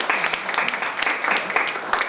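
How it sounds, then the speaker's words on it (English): A small crowd at a progressive open mic night gives a short round of applause, with scattered individual claps over a steady wash of clapping, and a bit of voice mixed in. "big round of applause for Megwin Sanders Andrews"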